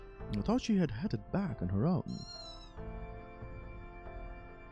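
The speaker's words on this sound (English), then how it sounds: "Is that a cat?" A cat in a video game gives a series of pitched, wavering meows in quick succession, loud and close, followed by a short thin chirp. A voice speaks over the end against faint background music.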